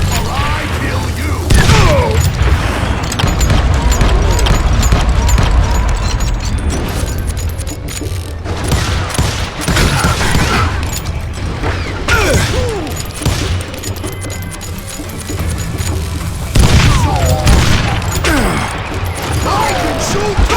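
Gunfire from a Wild West shootout in the game Call of Juarez Gunslinger: a busy, loud run of shots and heavy booms with clattering mechanisms, layered under shouting voices and game music throughout.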